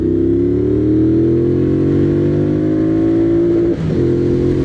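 A 2024 Triumph Bonneville Bobber motorcycle pulls hard in second gear, its engine note climbing steadily and loudly toward the rev limiter, followed by a brief stutter as the revs catch and drop.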